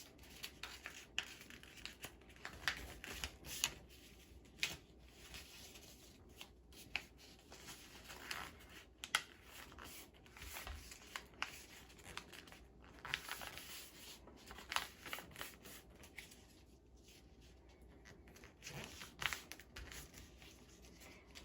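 Paper creased and folded into the wings of a paper airplane, with soft, quiet rustling, crinkling and scraping strokes repeating irregularly close by and no talk.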